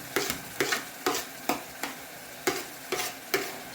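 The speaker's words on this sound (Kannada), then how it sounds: "ಈಗ ಟೊಮೆಟೊ ಹಾಕ್ತಾ ಇದ್ದೀನಿ ಹಂಗೇ ಕೊತ್ತಂಬರಿನೂ ಹಾಕ್ಬಿಡ್ತೀನಿ" Tomato and coriander go into a pan of finely chopped onions, giving a soft sizzle of frying broken by about eight regular scraping stirs of a spatula. No one speaks over it.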